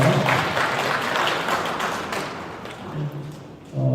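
Scattered clapping from a small group that thins out and fades, with a few soft thuds near the end.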